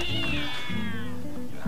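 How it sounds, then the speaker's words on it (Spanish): A female cat meows in a long, loud, drawn-out wail, close and alone with no talk over it. "La gata esa parece que sigue ahí, abordada."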